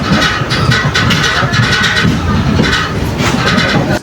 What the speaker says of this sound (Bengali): হাওড়া ছেড়ে বেরিয়ে যাচ্ছে আমাদের ট্রেন